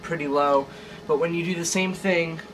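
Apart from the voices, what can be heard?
None of the usual background noises is heard.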